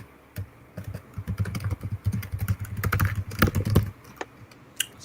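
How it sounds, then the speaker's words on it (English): Rapid typing on a computer keyboard, a dense run of quick clicking keystrokes with a few louder taps, close and steady, fading to a couple of isolated presses at the end. "Fast typing."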